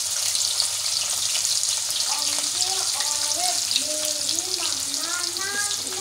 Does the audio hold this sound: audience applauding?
no